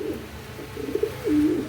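A carrier homer pigeon gives a few soft, low coos close by, short pulsing calls followed by a longer drawn coo, with no talk.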